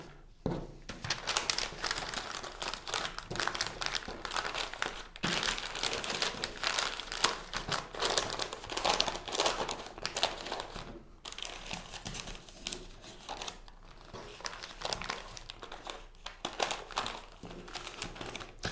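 Paper is folded and crinkled around a single red rose as a gift wrap, making close, irregular bursts of rustling and crumpling with short pauses between them.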